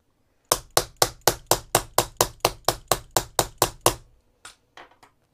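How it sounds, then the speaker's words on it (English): A hammer drives the male half of a metal snap fastener into place, landing about fifteen sharp, evenly spaced blows up close, then a few lighter, scattered taps as it finishes. "now I'm going to hammer that in place"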